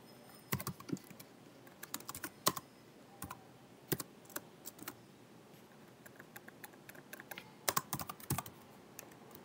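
Rapid, irregular clicks of a computer keyboard as Java code is typed, bursts of keystrokes with short pauses, close and fairly quiet, with no talking.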